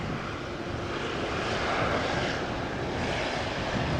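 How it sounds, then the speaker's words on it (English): Air Baltic Airbus A220-300 jet taking off from Amsterdam Schiphol, a steady, loud broadband engine roar that swells slightly and holds throughout, with no voices. "A220-300 from Air Baltic taking off."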